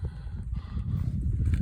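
Horse ridden while gathering cattle, its low hoof thuds and shuffling steps rolling steadily and close, with no voices.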